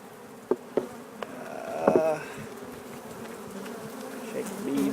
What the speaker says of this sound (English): A couple of bees scattered about on top.